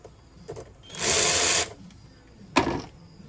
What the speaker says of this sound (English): I'm just going to use this cordless ratchet since we have one here.